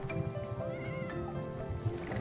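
A cat meows a few times in the Wanderstop video game, over steady tonal background music, with no talking.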